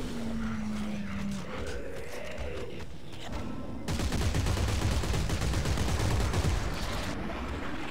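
Gunfire in Dead Space 3: after a quieter, murky stretch, a rapid, loud burst of repeated shots rattles on for several seconds before easing off.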